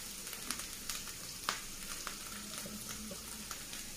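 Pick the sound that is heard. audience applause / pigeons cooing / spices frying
spices frying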